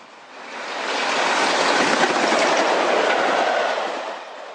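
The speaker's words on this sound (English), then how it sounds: "a rebuilt Royal Scot passes with the Trans-Pennine Express from Manchester to Newcastle" A rebuilt Royal Scot steam locomotive hauling an express train rushes past close by, its broad roar swelling in and fading out over a few seconds with faint rhythmic clatter.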